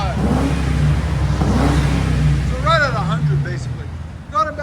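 A Ford Crown Victoria's engine revs loudly through its exhaust up close, a deep droning roar rising and falling while people talk over it.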